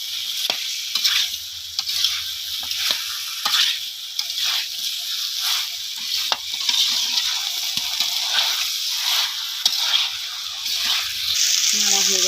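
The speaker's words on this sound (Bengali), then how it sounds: "এবারে এঁচোড়, আলু আর চিংড়ি মাছ সব একসঙ্গে দিয়ে নেড়ে নেব।" Jackfruit, potato and prawns sizzle in a hot pan with spices as they are stirred, a steady hissing fry broken by repeated scraping strokes of the spoon against the pan, close and fairly loud.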